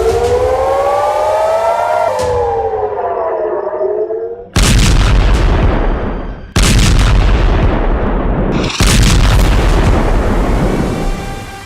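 A wailing air-raid siren rises and falls, then gives way to three heavy, roaring missile blasts at an Israeli missile headquarters, each one loud and rumbling with long debris-filled tails.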